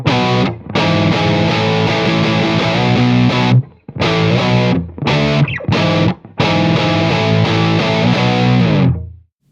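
An electric guitar played through a Sinvertek Distortion No.5 pedal with volume and gain boost engaged produces loud, saturated chords in several bursts separated by brief abrupt stops before a final ringing cut.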